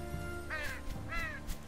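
A bird caws twice in the video game Unravel, two clear harsh calls close by over a faint ambient game background.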